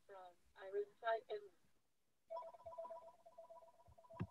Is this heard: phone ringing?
yes